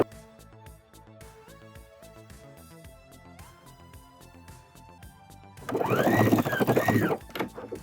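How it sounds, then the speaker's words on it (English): A Singer sewing machine stitches lining to the top edge of a vinyl bag, a close whirring burst near the end after a quieter stretch of faint background sounds. "I'm just going to sew all the way around the top, securing the top edge of that lining to the vinyl"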